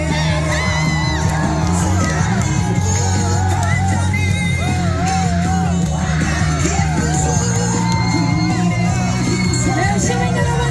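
A rally crowd for presidential candidate Kim Moon-soo outside Paju's Unjeong GTX station yells, whoops and cheers nonstop, loud and close, with shouted calls rising over a steady sustained tone beneath.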